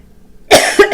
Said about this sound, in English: Okay, so the coughing's going to start.